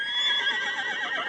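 A ridden horse named Blue lets out a single clear, fairly close neigh with a wavering pitch, heard on its own.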